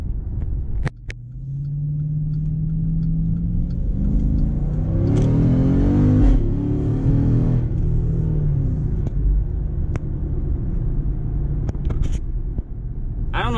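A 6.4-litre Jeep SRT8 SUV engine idles with a deep, steady rumble, then revs up and falls back once in the middle. It is close and loud, with a few sharp clicks, and no one speaks.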